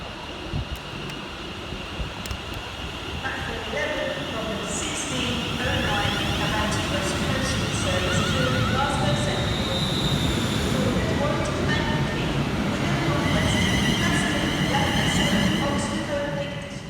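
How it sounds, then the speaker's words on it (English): A London Northwestern Railway class 350 electric train pulls out of Crewe station, its motors rising into a steady rumble with tonal whine and wheel squeal, building in loudness over the clip. "your final train of this session is 350-372, departing with the 1619 London Northwestern Railway service from Liverpool Lime Street to Birmingham"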